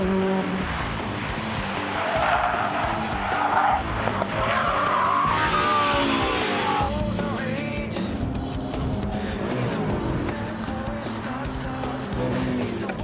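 Car tires squeal and skid through a spin-out in the Gran Turismo 4 video game, with a steady engine drone under a long, continuous screech that shifts pitch as the car slides.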